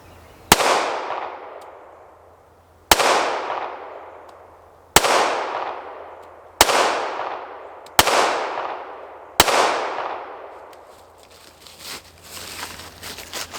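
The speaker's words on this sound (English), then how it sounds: "So this is 5 yards. We'll just shoot like 6 shots." Six sharp, loud pistol shots from a Ruger LCP Max fired at 5 yards on a shooting range, spaced a couple of seconds apart, each with a short decaying echo, followed by faint handling noise.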